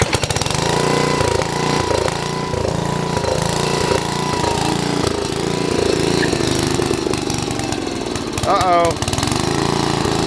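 An old Troy-Bilt tiller engine runs rough and starved for fuel, its loud uneven chugging and knocking pulsing throughout, with a brief spoken exclamation near the end.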